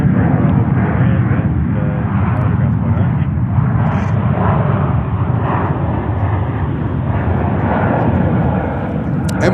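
An MNG Airlines Airbus A330-300 converted freighter at JFK produces a loud, sustained low engine rumble, with faint radio-like voices and brief clicks now and then over the drone.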